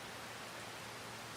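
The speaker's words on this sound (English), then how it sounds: "it's raining again" Steady rain in Farming Simulator 25, a dense, even hiss of falling water that fills the whole short stretch without any break, soft and continuous, with no voices heard.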